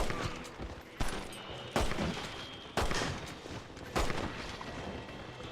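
Pistol gunfire in Red Dead Redemption, with five sharp, loud shots spaced roughly a second apart, each ringing briefly over a rustling outdoor background.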